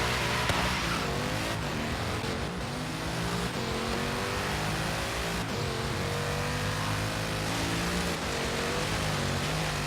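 A modern supercar driven on the road in Forza Horizon 3, its engine droning loud and continuous with rising and falling pitch as it accelerates and shifts, no talking.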